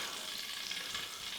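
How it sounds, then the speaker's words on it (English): Butter melting in a frying pan on low heat while cooking freshly caught flounder, giving a steady, even sizzle and hiss that holds at a fairly quiet level throughout, with no talking. "Just letting that butter melt there."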